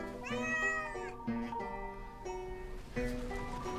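A cat meows several times in a row, long drawn-out cries close by, with short pauses between them.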